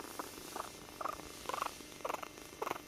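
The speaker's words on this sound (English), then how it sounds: "The little female is purring too." A newborn female kitten purrs up close in rhythmic pulsing bursts, about two per second, soft and steady with nothing else heard.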